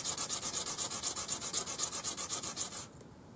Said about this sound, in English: You can just put a piece of sandpaper on your bench.